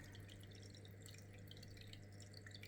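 Water flow from a Superfish Aquaponics aquarium filter, with part of the outlet out of the water, gives a steady, close, trickling and dripping splash that never lets up.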